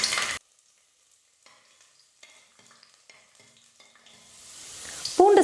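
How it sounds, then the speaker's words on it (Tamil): Ten garlic cloves sauté in hot oil with popped mustard seeds in a pressure cooker. A soft sizzle and light stirring scrapes come in bursts, with a louder hiss at the start and end and quieter gaps between. There is no talking. "பூண்டு சேர்த்து லைட்டாக வதக்கிட்டு"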